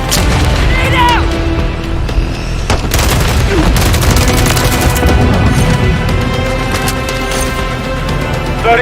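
A grenade explosion in the video game Call of Duty MW III, a loud booming blast with crashing debris amid ongoing gunfire and a chaotic battle mix.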